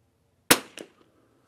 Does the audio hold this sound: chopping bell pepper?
no